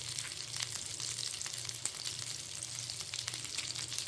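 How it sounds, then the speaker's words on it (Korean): Beef intestines sizzling on a grill plate, a steady close crackle of fat with sharp pops and spits, no voices. "불판에 한번 구워서 먹어보겠습니다"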